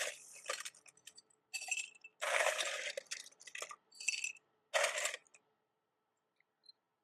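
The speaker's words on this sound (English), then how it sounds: "And then we're going to fill our glass with some ice." Ice cubes dropping into a drinking glass during cocktail preparation, a series of sharp clinking and rattling bursts in irregular clusters, close and fairly loud, then quiet with a couple of faint ticks at the end.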